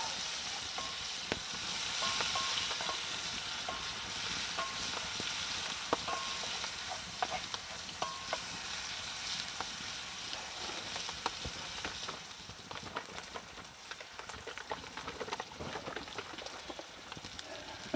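Food sautéing in a pan over an outdoor Swedish torch fire, giving a continuous crackling sizzle with scattered pops and a few stirring scrapes, close and steady with no talking.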